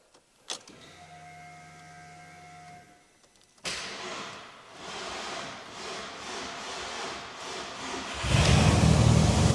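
Tuned VW Fox engine cranking and catching after a mechanical whir, then running rough and loud for several seconds, rising further near the end.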